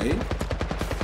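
Rapid automatic gunfire in Apex Legends Mobile rattles out as a steady string of about ten evenly spaced shots, close and loud, with no pause between bursts.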